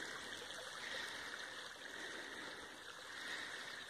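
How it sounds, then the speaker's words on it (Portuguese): Water trickles steadily from a temporary spring on a hillside in rainy Minas Gerais countryside, a continuous, even outdoor rush with no voices over it. "Aqui que começa a escorrer a água."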